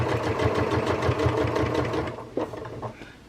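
A sewing machine stitches webbing on a dog toy in a fast, even mechanical chatter close by, running steadily for about two seconds before slowing and stopping with a small clack.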